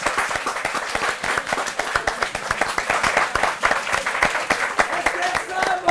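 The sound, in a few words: audience applause for a comedian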